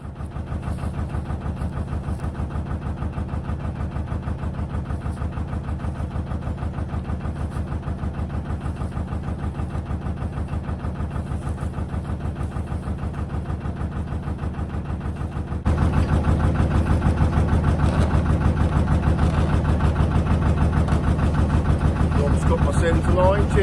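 A boat engine chugs steadily nearby with a regular throbbing rhythm, growing noticeably louder partway through as it revs up.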